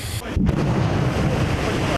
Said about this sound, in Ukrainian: лунають досить потужні вибухи, лунає багато і пострілів